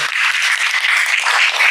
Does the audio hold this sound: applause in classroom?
yes